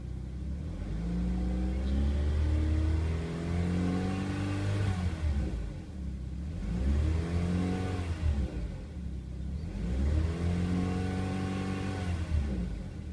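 A 2002 Saturn L200 2.2 engine with high mileage runs on a test stand and is revved three times in slow swells, rising and falling smoothly over a steady rumbling idle, heard alone.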